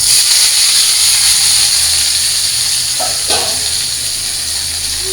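Vegetables fry lightly in hot oil with bay leaf and cumin in a wok, giving a steady bright sizzling hiss that runs close and unbroken, with a faint clink partway through.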